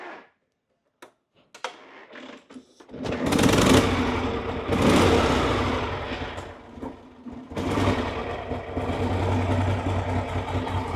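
A vintage Harley-Davidson 68 cubic inch (1100 cc) motorcycle engine is kicked over a few times, then catches and fires into a loud, lumpy running rhythm that revs and settles, close and alone.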